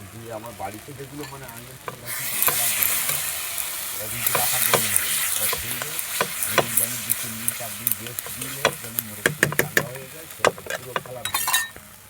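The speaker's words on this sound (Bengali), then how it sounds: "মশলাটা কষানোর মতো, আর একটু কষিয়ে নেব" Masala spice paste is stir-fried in a pan: a loud, bright sizzle swells up, and a spoon repeatedly scrapes and clinks against the metal in quick irregular strokes.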